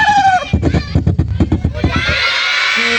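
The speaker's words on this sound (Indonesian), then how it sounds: "Ayam." A rapid, loud burst of chicken clucking with crowd noise and children's voices around it, close and dense for a couple of seconds before fading into a background hubbub.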